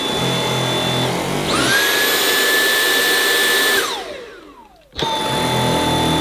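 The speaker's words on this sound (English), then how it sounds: "Okay, I'm going to switch to maximum now and see if that makes a difference with the ease of pushing" Dyson V8 Extra cordless stick vacuum whines loudly and close, rising in pitch as it switches to maximum, then winds down and cuts out before abruptly starting up again.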